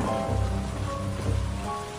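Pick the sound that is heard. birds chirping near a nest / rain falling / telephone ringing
rain falling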